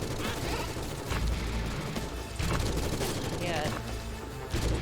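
Rapid, continuous gunfire blasts from the first-person shooter game Forgive Me Father, with sustained bursts and heavy booming impacts layered densely, while a player speaks briefly over the noise.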